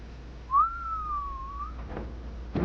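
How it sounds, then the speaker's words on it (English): A single sustained whistle used to call a dog rings out on one steady pitch that dips slightly, heard alone and moderately close, followed by faint rustling. "I could have sworn I heard the whistle"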